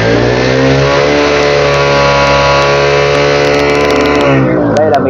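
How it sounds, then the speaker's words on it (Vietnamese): A car engine with a failing battery revs steadily as throttle is applied, a loud, sustained rising drone that continues, then eases off near the end, with a voice talking over it. "bắt đầu mình ga lên này"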